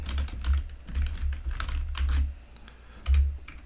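Rapid typing on a computer keyboard, close and crisp, with irregular clusters of keystrokes and a few heavier thumps.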